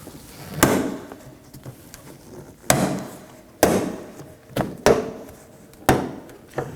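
Plastic retainer clips on a 2018-2024 Toyota Camry rear bumper cover are pried loose, giving six sharp, close snapping pops about a second apart over a quiet background.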